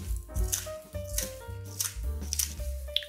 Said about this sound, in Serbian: Zatim ćemo uzeti ove naše papiriće i makazama ih iseckati.